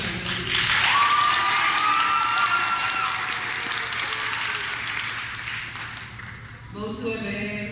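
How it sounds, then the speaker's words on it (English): Audience clapping at a high school art show, sustained applause that swells early and slowly fades, with a brief whistle-like tone and voices and movement near the end. "give us a moment to applaud for the effort"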